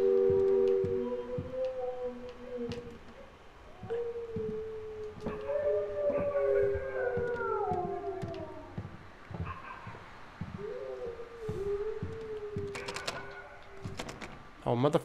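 Several dogs howl in long rising and falling wails, overlapping in the video game Home Sweet Home with rhythmic tapping beneath, no talking.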